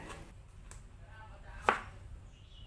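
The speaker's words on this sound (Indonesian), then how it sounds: "Tomatnya dipotong memanjang, tapi misalkan mau dipotong kotak juga boleh." A knife chops a tomato lengthwise on a cutting board, giving a few sparse, quiet cuts with one sharper chop standing out.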